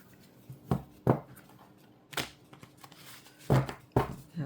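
Thick tarot cards are shuffled by hand in a handful of separate soft riffling and tapping bursts, close and fairly quiet, with short pauses between them.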